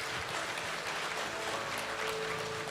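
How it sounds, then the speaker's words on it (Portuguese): Applause from a church congregation during an evening revival service, a steady, dense wash of many hands clapping at even loudness for a few seconds with no talk. "Uma salva de palmas."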